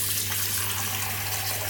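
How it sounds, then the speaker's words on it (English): Steady running water from a tap, splashing continuously as a touch more is added to a shaving brush and soap during lathering, even and close with no talk. "I'm adding a touch more water still."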